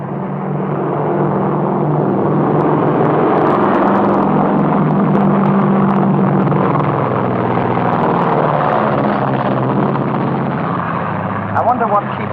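A propeller airplane drones steadily through the whole stretch, a loud continuous engine rumble with a faint rhythmic beat, from an old comedy film scene.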